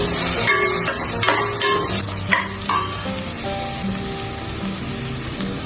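Tomato with chili and coriander powders sautés in a pan: a continuous sizzle broken by sharp spatula clicks and scrapes as it is stirred, busier at first, then settling.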